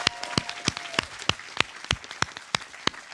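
Sparse, spaced claps from a small conference audience, each sharp and distinct in a quiet hall, a steady uneven rhythm over about three seconds with no voices.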